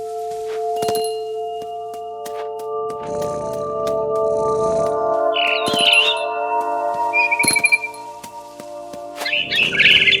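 Bird chirps ring out in the video game What Remains of Edith Finch, short bright calls near the middle and end over sustained musical tones and scattered soft thunks.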